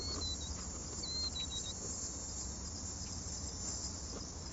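Crickets chirping at night as a continuous, fairly faint high-pitched chorus over a low background hum, with no voices.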